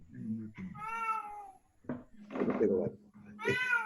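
A cat meows several times in drawn-out, tonal cries with pauses between them, close and fairly clear, with a person's voice mixed in around the calls.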